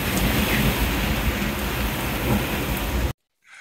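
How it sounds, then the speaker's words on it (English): Heavy rain pours steadily onto a sailboat, a dense, loud hiss of drops that cuts off abruptly near the end. "Oh, look, it's raining, just for a change."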